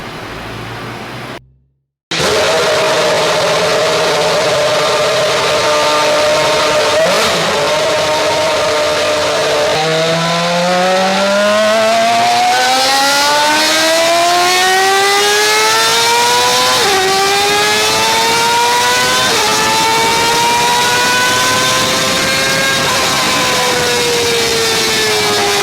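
A high-compression car engine running almost 30 pounds of boost roars at full throttle on a dyno, tires spinning on the rollers, pitch climbing steadily through several gear shifts, loud and continuous after a brief quiet start.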